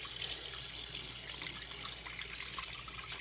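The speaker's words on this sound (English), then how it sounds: "I'm going to wash my hands real quick" Tap water runs steadily into a sink during hand washing. A soft, continuous splashing hiss is heard at low volume with no speech.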